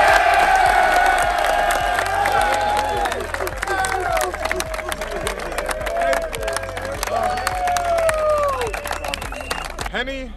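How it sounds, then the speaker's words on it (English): A crowd cheering and whooping with scattered clapping during a school announcement for a college football finalist, loud and lively over a pulsing music beat, with voices shouting throughout. "Let's give a round of applause for Henry."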